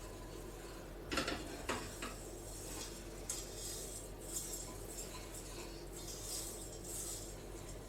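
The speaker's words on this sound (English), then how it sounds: "stir this one, because when you try to make a sauce like a caramel, like we do here, you can stir it" Caramel sauce is stirred in a pan for crème brûlée, with a steady scraping and swirling, a few sharper clinks of the utensil against the pan, and faint background sizzle.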